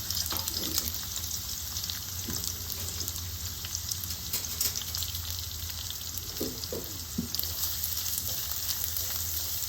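Large pieces of onion fry in oil in a pan with a steady, close sizzle. A few stirring clinks come through at times, and no one speaks.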